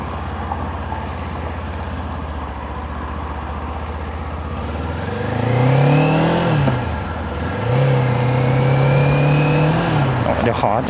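A Kawasaki Ninja 500 SE motorcycle engine idles, then revs up in two rising surges as the bike pulls away, loud and close throughout.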